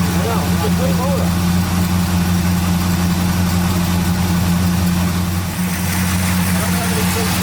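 A 1973 Chevy Camaro split-bumper V8, cold-started after sitting at least ten years, idles steadily with a loud, constant low rumble throughout, with people talking over it now and then.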